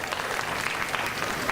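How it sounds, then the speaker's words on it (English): A crowd claps at a Constitution Day and kids' voting kickoff event, producing dense, continuous applause at a moderate level for the whole moment. "could we have a nice round of applause for our friend"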